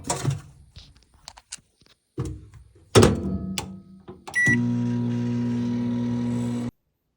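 A microwave oven heats food: a few door clunks and a short beep, then a steady, loud hum runs for about two seconds and stops abruptly. No one speaks.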